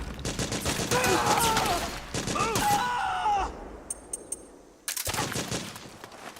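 Rapid suppressing gunfire from Metal Gear Solid 4 crackles in dense bursts with shouted voices over it, breaks off into a brief lull with faint electronic beeps, then resumes loudly.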